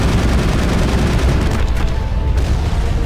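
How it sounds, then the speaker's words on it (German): Loud, booming explosions go off in a Mass Effect battle for the Citadel, a dense barrage of heavy blasts and rumbling impacts rolling one into another, with a brief high ringing tone near the end. "diese Explosionen, die gehen halt wirklich um die Deckung rum"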